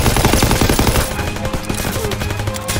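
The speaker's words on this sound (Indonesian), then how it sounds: "karena dia masih maju, gua akan tembak dia" Rapid automatic gunfire in Call of Duty: WWII, a dense burst of loud shots in the first second that gives way to scattered, quieter shots and in-game battle noise.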